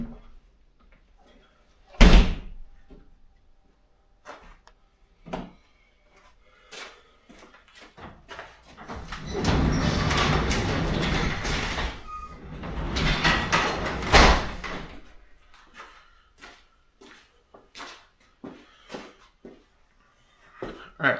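A loud metallic Chevrolet S10 truck door slams shut once, followed later by scraping and handling noises, a few clunks, and a scattering of sharp knocks.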